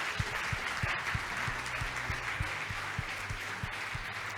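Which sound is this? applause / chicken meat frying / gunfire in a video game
applause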